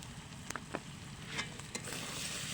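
Ground spice paste mixed with salt, turmeric, coriander powder and chili powder sizzles in a pan for an Eid meat dish. A steady crackling fry is broken by a few sharp clicks and scrapes of stirring.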